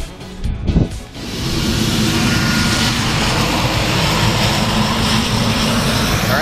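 A skydiving airplane's engine starts up with a few uneven coughs and turns, then settles into a loud, steady, close-by roar.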